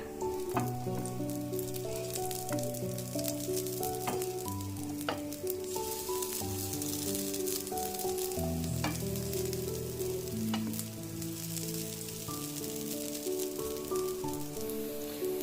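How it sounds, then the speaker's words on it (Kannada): Soya chunk cutlets shallow-fry in a little oil on a tava over low flame, giving a steady, close sizzle that runs through the whole stretch beneath louder background music. "ಇದನ್ನು ಆದಷ್ಟು ನೀವು ತುಂಬ ಕಡಿಮೆ ಉರಿನಲ್ಲೇ ನೀವು ಇದನ್ನು ಶಾಲೋ ಫ್ರೈ ಮಾಡ್ಕೋಬೇಕಾಗುತ್ತೆ"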